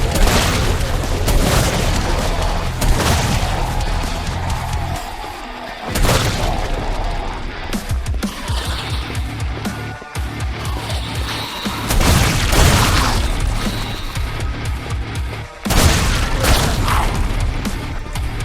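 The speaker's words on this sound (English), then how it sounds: "a gun that is basically the Devastator from Serious Sam 3 and 4 that shoots out some kind of heavy explosive round with precision" Heavy explosive rounds from a Devastator-style precision gun in the first-person shooter Bloodkill: repeated loud booming blasts with crashing impacts and ringing debris, dense and close, played over constant game noise.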